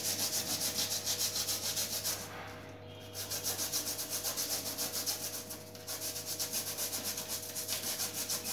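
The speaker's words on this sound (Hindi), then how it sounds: "फिर एक ब्रश को ब्रश लेके इस तरीके से इसे क्लीन कर लें। ब्रश को ज्यादा जोर से नहीं चलाना है," A brush scrubs an air conditioner filter grill with steady, rhythmic back-and-forth strokes, close and fairly loud, with two short pauses in the middle.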